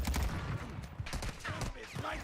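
Rapid bursts of incendiary-round gunfire crackle in a Call of Duty Warzone match, uneven clusters of shots at moderate distance with faint voices underneath.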